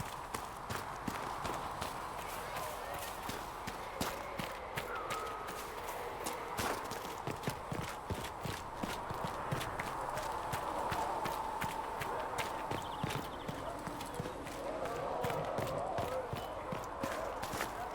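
Horse hooves clip-clop at a quick, steady gallop rhythm in the video game Dragon Age: Inquisition, continuous and fairly close over a low ambient game bed.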